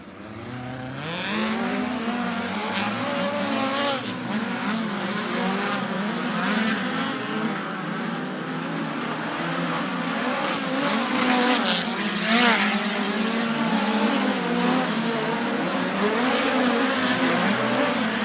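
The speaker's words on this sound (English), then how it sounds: "Cars coming to speed." Dirt track race cars running hot laps at Bakersfield Speedway during the USAC November Classic, a steady engine roar that rises and falls as cars pass, heard from a distance with no talk.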